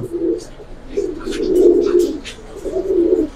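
Giribaz pigeons, including males, coo close by in several low, throaty rolling calls that overlap with faint soft flutters and clicks.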